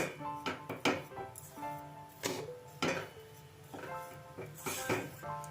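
Semolina dough stirred in a pan over a low-to-medium gas flame makes repeated scraping and clinking knocks of a spoon against metal in an irregular rhythm, close by, with someone talking throughout.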